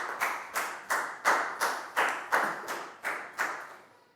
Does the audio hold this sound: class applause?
yes